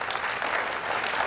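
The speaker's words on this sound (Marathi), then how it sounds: "टाळ्यांचा आवाज फार कमी येतो आहे" A short burst of audience clapping at a public Shiv Jayanti celebration ceremony, steady and fairly close, rising and holding at an even level with no voices over it.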